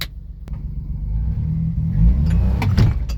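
A Gator utility vehicle stuck in two-wheel drive on a concrete floor, its engine rumbling and revving up in a low, strained drone, close and loud, with a sharp knock near the start.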